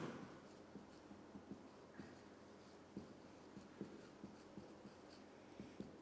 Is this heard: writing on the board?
yes